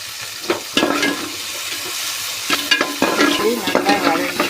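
Two cut tomatoes sauté in a pan for a lentil-ball kuzhambu curry, with a soft, constant sizzle under repeated stirring knocks and scrapes of a spoon against the pan, close up and without talk.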